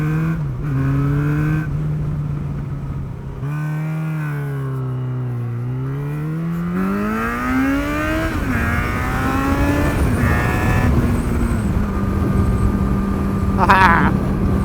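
A Yamaha XJ6 motorcycle engine on country roads strewn with gravel and mud, holding a steady drone that rises and falls through gear changes, with wind noise and talk over it.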